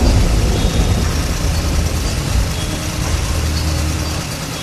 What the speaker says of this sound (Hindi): बुल्ली ने अपनी गाड़ी मोड़ी और सीधे गेम स्टोर की तरफ निकल गया।